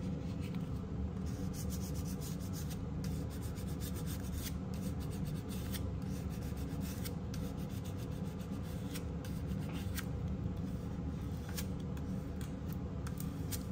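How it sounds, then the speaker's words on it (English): Steady rubbing and scraping of a glue stick burnishing glued paper for junk journaling, a continuous close friction texture running the whole time with scattered short scratchy strokes and no talk. "I'm gonna do a quick burnishing."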